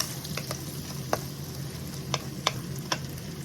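Chopped onions cooking in a pan for fried rice make a low, steady sizzle. Sharp clicks of a spoon or spatula stirring against the pan rise above it, with no talking.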